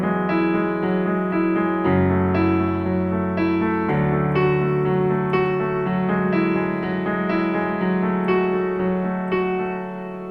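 Solo piano plays a song as accompaniment, moving from the pre-chorus into the chorus with steady sustained chords and a repeating broken-chord pattern, clear and close.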